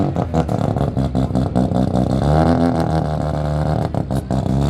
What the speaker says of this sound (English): RX-7 sound insane, bro. It might be one of the sickest sounding cars.